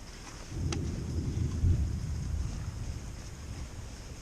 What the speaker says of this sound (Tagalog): Kung naririnig nyo, kumukulog na sa ibabaw namin, kaya kami medyo nagmamadaling bumaba.